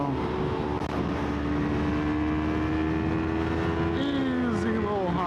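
A Yamaha R3 motorcycle cruises along a 65 mph highway in sixth gear, its steady engine drone and wind rush filling the clip, with a brief rising tone shift near the end.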